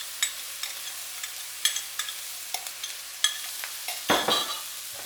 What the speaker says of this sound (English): And now stir everything all together.